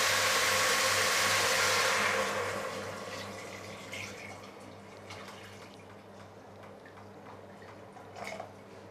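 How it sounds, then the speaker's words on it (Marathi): Hot water pours into a pot of mild mutton soup being made for a thali, a loud broad splashing rush for about two seconds that fades into softer trickling and occasional drips. "तर चला आता यामध्ये गरम पाणी घालूया।"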